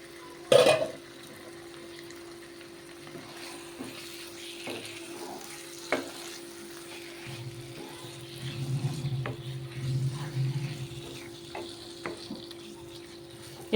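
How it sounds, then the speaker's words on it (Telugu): Marinated chicken is tipped into a pan of onion, tomato and masala and stirred, giving a soft continuous sizzle with scraping spoon strokes, a sharp clatter near the start, and a stronger frying hiss later on. "ఇప్పుడు మనం మ్యాగ్నేట్ చేసి పెట్టుకున్న చికెను ఇప్పుడు వేసేయాలండి. వేసేసి బాగా కలపాలి."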